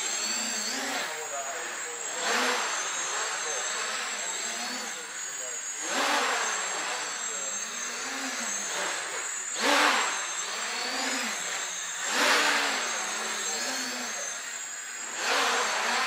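A KK quadcopter drone flies nearby, its motors whining steadily and surging periodically as it hovers and spins in place, with a voice talking over it.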